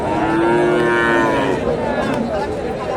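Friesian cattle on a dairy farm give a loud, drawn-out moo close by that fills the whole moment, with a second lowing call overlapping toward the end.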